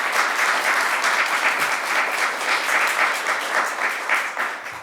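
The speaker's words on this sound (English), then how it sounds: "Let's give them a round of applause." Dense, sustained applause from a crowd at a governor's bill-signing event on reproductive health care fills nearly five seconds at an even, loud level before tapering slightly at the end.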